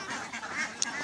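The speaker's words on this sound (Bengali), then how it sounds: "এখন হাঁসগুলো ছাড়লাম, ছাড়ার পর হাঁসগুলো দেখেন কত সুন্দর বেরোয় যেতেছে।" Laying ducks from an egg farm quacking as they are let out, a short burst of several quacks close by with a quick click near the end.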